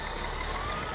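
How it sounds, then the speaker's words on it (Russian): A bus engine idles with a low rumble while steady reversing beeps repeat, a continuous loud mechanical drone lasting about a second in the video game The Quarry. "Автобус."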